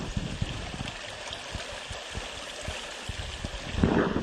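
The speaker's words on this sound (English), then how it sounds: "we can listen to the wonderful sound of the creek" Rock Creek flowing under a bridge past an old metal culvert, a steady soft rush and trickle of water with faint low knocks, close by and with no voices.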